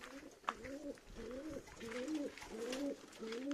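Pigeons cooing in repeated soft, rolling calls, several phrases in a steady rhythm, fairly close, with faint background noise.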